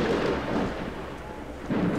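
Deep thunder rumbles in the video game Obscuritas, heavy and booming at the start, easing off, then swelling again near the end, with no speech.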